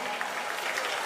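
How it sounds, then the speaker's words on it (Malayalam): A press meet crowd gives steady applause for actress Abhirami, a brief, dense wash of clapping with no pause. "ഒരു ഗംഭീര കൈയടി ഫോർ അബ്രാമി."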